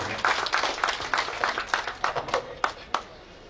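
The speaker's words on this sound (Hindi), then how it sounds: "जोरदार तालियों के साथ सबका स्वागत है" A crowd claps in a steady, rhythmic applause to welcome a political speaker at an event marking the CISF takeover of Darbhanga airport, with loud individual claps standing out and the clapping fading toward the end.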